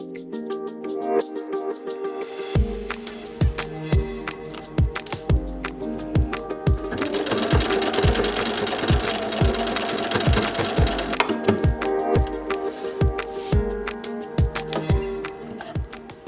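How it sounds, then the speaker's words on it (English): A sewing machine stitches pleats on a fabric face mask, close and clear, with a run of rhythmic needle thumps, a denser stretch of steady stitching in the middle, then more spaced stitches. "sew up the other pleats. Do some back and forth stuff so it stays."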